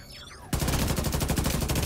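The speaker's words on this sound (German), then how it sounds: "Ja, unser Geschütz schießt ihm in den Rücken" Turret gunfire in the shooter game The Division 2: after a brief quiet start, a sustained burst of rapid, evenly spaced shots erupts loudly and hammers on without pause.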